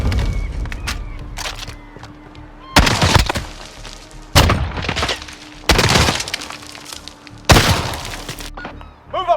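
Gunfire in a Modern Warfare video game gunfight: four or five loud, sharp bursts of shots crack out at irregular intervals, with quieter rattles and clatter between them.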